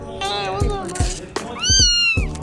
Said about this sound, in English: Shop kitties.